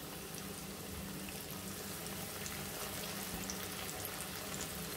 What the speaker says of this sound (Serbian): Stavit ću sva 4 parčeta odjednom da se peku.